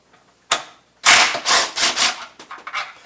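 A ratchet with a 10 millimeter socket removing bolts on a 2008 Dodge Charger, a short burst of rapid metallic clicks, a pause, then a longer run of ratcheting clicks close up.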